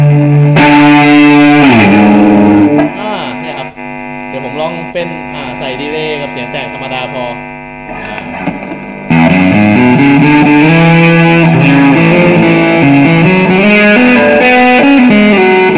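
An electric guitar plays through a JOYO DC15 amp with distortion and delay, producing loud, thick overdriven chords and sliding notes. A quieter, more open passage in the middle gives way to a heavy driven section.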